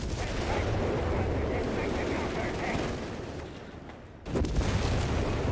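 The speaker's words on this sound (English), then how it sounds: "And we got the Vesper firing at something." Vespa artillery firing during a Company of Heroes 3 match: dense booming battle noise with rumbling impacts, a brief lull, then another loud burst, heard under a commentator's voice.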